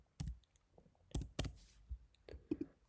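Sharp clicks of computer keyboard typing during surgical implant documentation, a handful of separate key presses in small bursts, close and fairly quiet.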